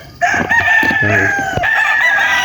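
Gamefowl roosters kept tethered at a game farm crow loudly and close by, a sharp drawn-out crow with overlapping clucks and a second crow starting near the end.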